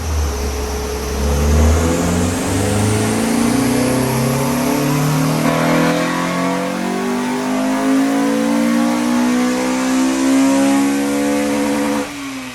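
A Honda Civic EP3 Type R with an upgraded induction kit on a dyno power run, the engine revving steadily up through the range in one long, loud rising sweep, then dropping off at the end.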